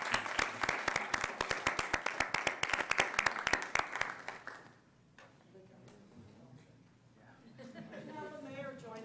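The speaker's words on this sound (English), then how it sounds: "And a round of applause." An audience at a city commission meeting claps in a brisk, fairly close round of applause that fades out after a few seconds, followed by quiet room murmur and a voice speaking.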